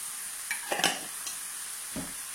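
A spoonful of ras el hanout being stirred into a pan of beef filling for pirogues, heard as a soft background sizzle with a few quick scraping spoon strokes; close but quiet, with no talk.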